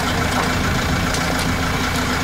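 A tractor engine idles at a lakeside work site at Lake Tingrela, a loud, close, steady rumbling drone with no pauses and no talk.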